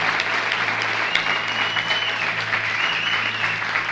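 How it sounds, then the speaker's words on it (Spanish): Steady, loud congregational applause fills a Spanish-language evangelical church service, a dense wash of clapping with a faint sustained tone and voices blended underneath. "Fuerte ese aplauso."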